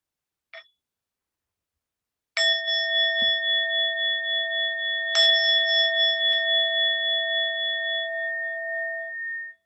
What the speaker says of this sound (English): And with the sound of the bell, we'll bring this meditation to an end.